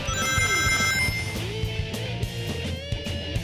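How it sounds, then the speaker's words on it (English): A custom checkpoint sound in the Sonic Lost Adventure video game, Havok Harbor stage: a bright, ringing jingle of repeated tones over busy game music and effects, fairly loud and continuous. "Maybe weird custom checkpoint song sound that he put in."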